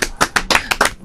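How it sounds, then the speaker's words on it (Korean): Applause from an audience during a Korean talk show featuring band members, about six distinct bursts of clapping in quick succession, fairly loud and close with no voices over it. "아, 박수 한번 치겠습니다."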